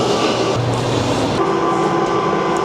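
Amsterdam metro train riding along with a steady, loud rumble and rail hum throughout, tonal whines shifting partway through; no talk.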